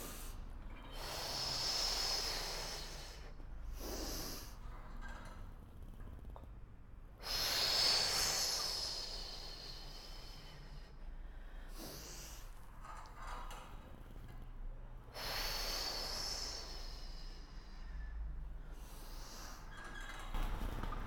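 Slow, controlled breathing during a pregnancy Pilates exercise for pelvic pain, with long audible inhales and exhales repeating in a steady cycle about every four seconds, close and fairly soft, with no talk.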